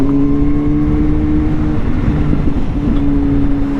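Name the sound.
Kawasaki ZH2 supercharged motorcycle engine and exhaust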